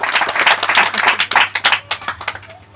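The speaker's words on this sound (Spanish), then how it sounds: "dale un fuerte aplauso al que vive" Loud, dense clapping rises from a church congregation during a live preaching service and fast, then thins out into scattered claps that fade away.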